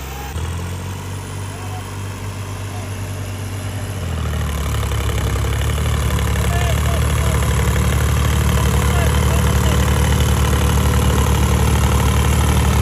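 A New Holland 3630 special edition 4x4 tractor engine idles close by with a loud, steady low rumble that deepens and grows louder partway through.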